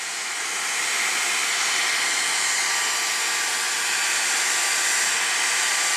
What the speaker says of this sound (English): I will show you with a heat gun how I take a heat gun and I can force dry the putty